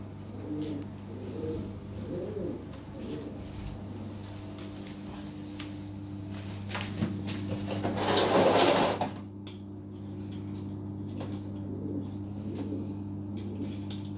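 Lahori pigeons in a loft coo softly and steadily in low repeated calls, with a steady hum underneath and a brief burst of louder noise partway through.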